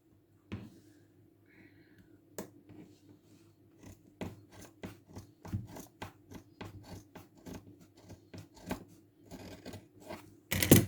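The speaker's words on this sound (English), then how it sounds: "So I'm going to cut" Scissors snip steadily through fabric while a flare skirt is cut out, a close run of crisp, regular cuts with light rustling between them and a louder scrape at the very end.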